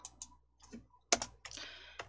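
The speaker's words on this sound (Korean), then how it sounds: "키보드 Alt-C 눌러보실게요." Computer keyboard keys being pressed, a few soft scattered clicks followed by a sharper close key press and some quieter taps, in an otherwise quiet room.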